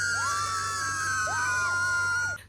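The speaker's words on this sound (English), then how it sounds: "I just needed a wild friend to make me do something as insane as scream while the sun" A woman screams at sunset in Malindi during a birthday outing, a long sustained cry with rising and falling pitch over steady background hum, cutting off abruptly at the end.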